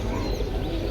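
A male pigeon coos at a pigeon market, a low, soft, throaty murmur close by over a dense background of other birds and crowd noise.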